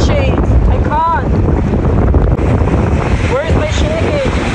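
Big ocean waves surging on a Boracay beach under heavy, continuous wind rumble buffeting the microphone, loud and close, with brief rising whistling tones mixed in.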